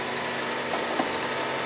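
The hybrid engine of a Maruti Suzuki Invicto idles with its bonnet open, a steady low hum with a faint, even vibration and a couple of small clicks, heard up close with no talking.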